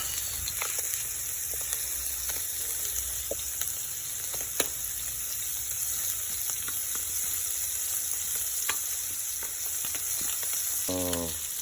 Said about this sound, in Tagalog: Tapos lalagyan na natin ng ating sibuyas.